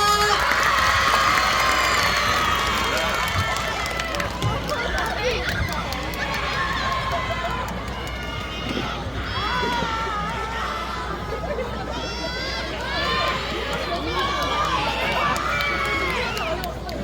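At an evening outdoor festival stage show for a joint high school and middle school dance team, a crowd cheers and shouts with scattered clapping, a steady busy roar of many voices lasting throughout.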